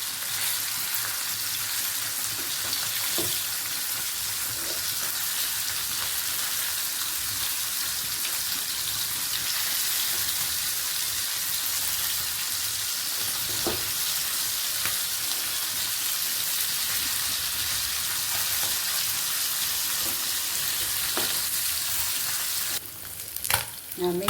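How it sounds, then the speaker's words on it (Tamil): Fish sizzles and fries steadily in a pan with oil, a dense continuous crackle that stays loud throughout, with a few soft clicks and a brief knock near the end. "மீன் வெந்துச்சு. இப்போ மாற்றி போட்டுருவோம்"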